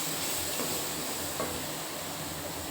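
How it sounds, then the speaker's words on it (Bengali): Spice masala sizzles loudly as it is stir-fried in a pan for a vegetarian cauliflower and potato curry, a dense continuous frying hiss with faint stirring scrapes and no voices. "এবার মশলাটা খুব ভালোভাবে কষিয়ে নেব।"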